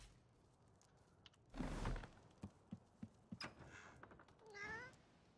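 A cat meows in the Divinity Original Sin 2 video game, a rising, wavering meow near the end, after a door-like thunk and several sharp clicks and knocks, fairly quiet overall.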